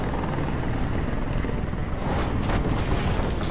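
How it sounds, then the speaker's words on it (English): A helicopter hovers close and loud in Detroit: Become Human, its steady, heavy rotor roar filling the scene without pause. "Get the chopper out of here."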